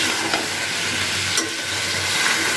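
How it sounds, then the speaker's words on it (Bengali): Jackfruit, potato, prawns and chopped tomato stir-fry with spices in a pan, making a steady, close sizzle with a couple of brief scraping strokes of the spatula and no voices. "দিয়ে আবার একসাথে বেশ কিছুক্ষণ এটাকে কষিয়ে নিতে হবে।"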